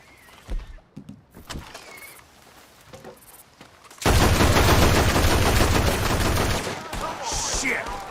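Sustained loud gunfire in the video game Lethal Zone breaks out after a few scattered shots and clicks, a dense rapid burst that keeps going to the end.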